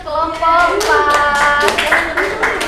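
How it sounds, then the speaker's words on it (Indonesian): Classroom applause for a student group after their presentation: a dense, steady patter of many hands clapping, close and continuous, with a voice briefly audible over it. "kita beri tepuk tangan untuk kelompok"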